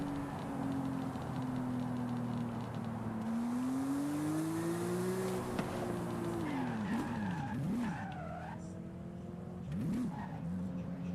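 A Porsche skids in a video game, its tyres squealing in long wavering screeches over a steady engine drone, with the pitch bending up and down through repeated slides.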